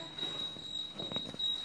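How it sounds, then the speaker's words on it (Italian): A kitchen timer's thin, high electronic beep rings continuously, steady and fairly faint, with light clattering in the background. "Ecco che suona il timer."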